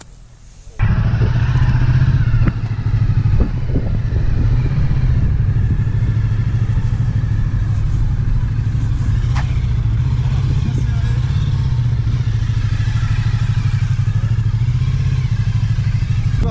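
Police motorcycles and a Ducati Multistrada running slalom drills, a steady close engine drone starting abruptly and holding throughout, with occasional clatters and voices heard faintly.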